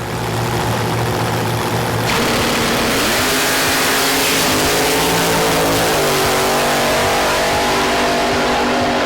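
A funny car drag racer's engine roars continuously and loudly at an import versus domestic matchup, its pitch climbing in stepped revs as it accelerates.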